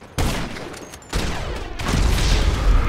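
Rocket launcher blasts and explosions from an online shooter game with RPGs, heavy booming bursts arriving in waves, loud and close, with continuous rumbling gunfire filling the background.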